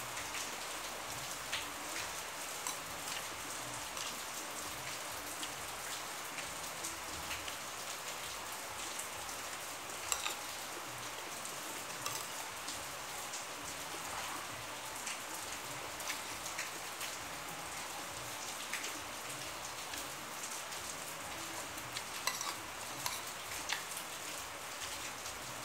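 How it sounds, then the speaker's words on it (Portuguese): Steady rain falls continuously, a dense even hiss of drops pattering on surfaces throughout, with no voices. "E chuva, viu, gente?"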